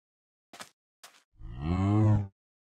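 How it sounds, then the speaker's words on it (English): A cow in the Minecraft video game moos once, a loud, drawn-out low call following two short soft clicks, heard alone and close. "Okay, cow, come here."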